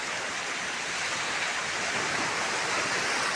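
Sea waves washing onto a shore, heard as a steady, even wash of broadband roar with no distinct breaks, fairly close and unbroken by talk.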